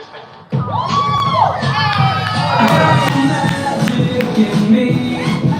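A crowd at a dance-for-a-cause event cheers for the minis dance group, loud shrieking children and whoops swelling after a quiet start and staying high throughout.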